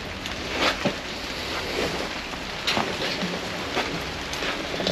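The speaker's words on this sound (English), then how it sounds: "It's raining outside. Very lightly, but it is raining." Light rain falls outside the entrance of an old West Coast mine, a soft, steady patter with a few slightly louder drips and gusts, no voices.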